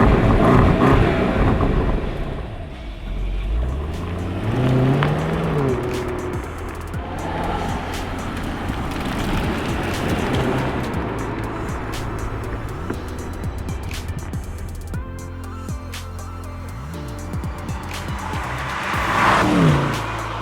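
A BMW Alpina B8 with its V8 engine driving on public roads, the engine rising and falling through gear changes with occasional tire noise and a louder surge near the end, no talking.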